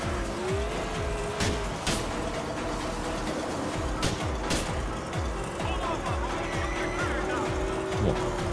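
Car engine in GTA IV roaring steadily while tires squeal and skid through a drift, with repeated rhythmic thumps and a few sharp bursts, loud and continuous throughout.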